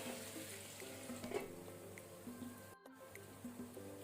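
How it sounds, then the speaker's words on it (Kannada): Sardine fish eggs frying in a covered pan over a medium flame, a steady close sizzle with soft crackles and faint popping drips running throughout. "ನಾವಿಲ್ಲಿ ಬಾಯಿ ಮುಚ್ಚಿ ಇದನ್ನು ಎಗ್ಸ್ ಅನ್ನು ಫ್ರೈ ಮಾಡ್ಕೊಳ್ಳುವ ಮೀಡಿಯಂ ಫ್ಲೇಮ್ ಅಲ್ಲಿ"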